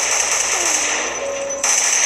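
Rapid automatic gunfire in the Roblox video game, a dense, loud, sustained burst of shots that runs without a break and briefly dips before resuming, with no talk over it.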